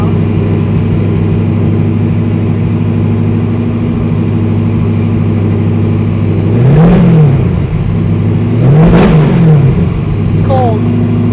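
Supercharged V8 swapped into a modified, widened MGB idles loudly and steadily up close, then gets two sharp rising-and-falling revs; voices talk briefly around it.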